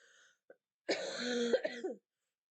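A single hoarse cough, close and fairly loud, with a throaty rasp at the end, after a moment of near silence.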